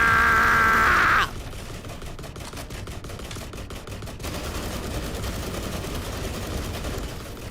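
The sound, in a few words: gunfire in video game The Last Caretaker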